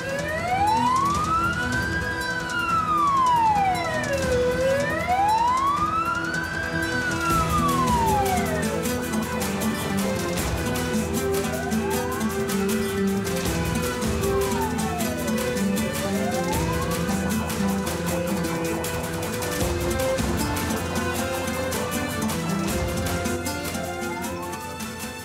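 An approaching ambulance siren wails loudly and steadily in rising-and-falling sweeps for the full length, with traffic rumble underneath and no talk over it.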